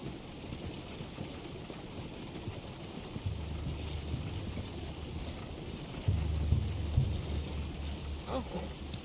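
Hooves clip-clopping in Red Dead Redemption 2, a soft, continuous patter under a steady low rumble of movement, growing a little louder toward the end.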